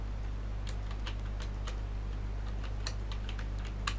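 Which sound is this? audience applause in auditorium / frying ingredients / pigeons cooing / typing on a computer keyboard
typing on a computer keyboard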